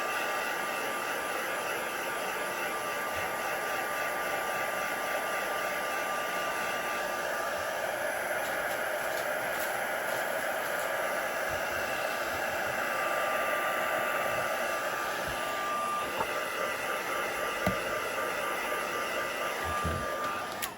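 A hair dryer blows a steady, loud hiss of air across an acrylic stamping block, unbroken for about twenty seconds, with faint bumps and handling now and then.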